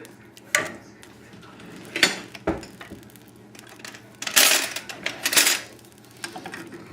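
A spoon scraping and pressing braised lamb shank sauce through a metal sieve, a series of sharp metallic clinks and scrapes in irregular bursts, louder in the middle, with no talk.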